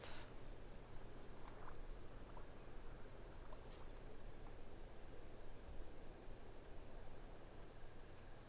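A faint, steady nighttime ambience from The Sims 4, with dense insect chirring and frog-like croaks forming a continuous low-level bed and no speech over it.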